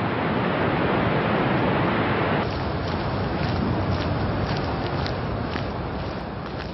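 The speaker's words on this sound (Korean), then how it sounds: "서로 다른 매력이 보인다는 나야가라 폭포." Niagara Falls in winter roars as a steady, dense wall of rushing water, a loud continuous broadband wash with no voices.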